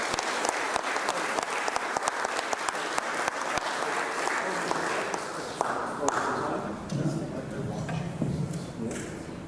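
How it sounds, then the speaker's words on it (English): An audience applauds to welcome a speaker on a Cairns tour stop, a dense burst of clapping that starts strong and gradually thins out, with crowd noise and voices emerging as it fades. "I wish you all give him a big round of applause and welcome to that"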